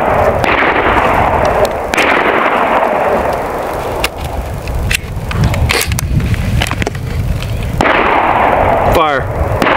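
An air shotgun firing a shell outdoors, with several sharp cracks breaking through a loud, constant rushing background, close to the listener, and a voice heard briefly.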